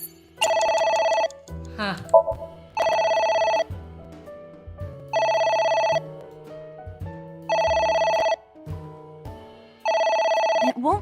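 Electronic telephone ringing in AI: The Somnium Files, repeating in regular bursts about every two seconds, with someone speaking briefly in the gaps between rings.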